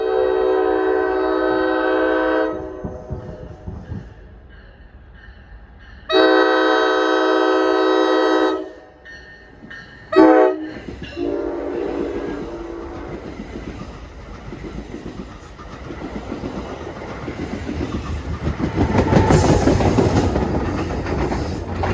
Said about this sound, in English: here comes 1168 from Waldwick to Hoboken